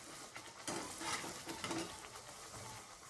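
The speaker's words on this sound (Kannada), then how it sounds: "ಇದನ್ನು ಚೆನ್ನಾಗಿ ಡೀಪ್ ಫ್ರೈ ಮಾಡ್ಕೊಳ್ಬೇಕು" Sweet dough deep frying in hot oil, a steady close hiss and crackle of bubbling with soft stirring clinks, low and continuous without talk.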